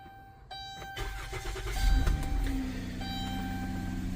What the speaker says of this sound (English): Now at this point I'm gonna start the vehicle.